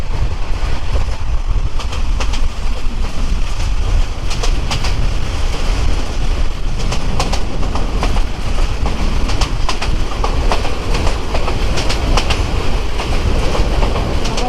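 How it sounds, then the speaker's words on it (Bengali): Balaka Commuter train running on rails in Bangladesh, a loud steady roar of wheels and carriages with rhythmic clickety-clack beats, heard close from on board with no talk. "এই হচ্ছে আমাদের বলাকা কমিউটার ট্রেন"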